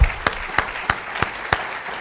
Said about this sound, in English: And I really want to give you a round of applause.